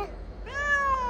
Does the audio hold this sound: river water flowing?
no